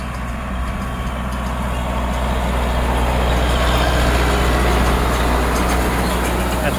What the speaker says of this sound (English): my brother is on the smaller tractor with the rake right now